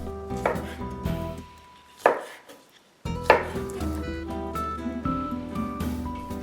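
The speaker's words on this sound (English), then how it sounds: "I cut the cuttlefish into pieces." Knife chopping cuttlefish into pieces for seafood paella, a run of close, uneven cuts and board knocks with a brief pause midway, then a denser stretch of chopping with clattering kitchen ring.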